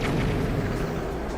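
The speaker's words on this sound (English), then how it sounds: "shooting a bomb arrow with another bomb arrow launches them and ignites them, making a secondary explosion." A secondary explosion from one bomb arrow striking another in Zelda: Breath of the Wild, heard as a dense, sustained low rumble of blast that holds steady for a moment without a sharp single onset.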